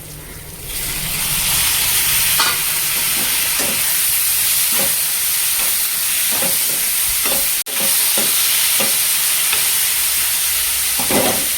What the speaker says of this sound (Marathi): आता मी यामध्ये टॅमॅटो टाकणार आहे